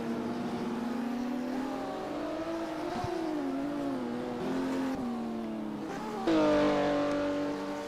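Classic Porsche Cup race cars in a sim racing game at East London circuit, engines howling and shifting pitch as the cars slide sideways, with a sharp jump in loudness near the end.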